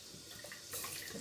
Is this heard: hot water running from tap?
yes